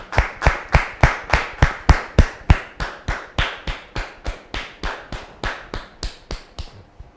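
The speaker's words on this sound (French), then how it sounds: "Je vous demande de le recevoir sous vos applaudissements" A single pair of hands claps steadily and close, about twenty-five sharp, evenly spaced claps over several seconds with no voices, greeting an honoured guest named Monsieur Roger.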